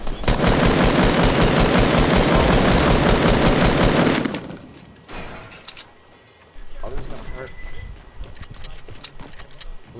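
Loud, rapid automatic gunfire from a video game battle near a basketball court fills the first four seconds, followed by quieter scattered game sounds and a few distant shots, with a player talking over it.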